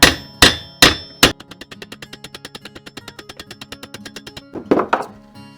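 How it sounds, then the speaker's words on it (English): An engineering hammer strikes a rivet resting on an anvil while a broken digging fork handle is repaired: four heavy ringing blows, then a steady run of about twenty lighter, evenly spaced taps, and a couple of louder strikes at the end. "with an engineering hammer, tap away at the rivet"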